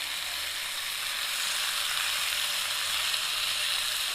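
Bacon sizzles steadily in a small pan, a dense, continuous crackling hiss that stays close and even throughout with no voices.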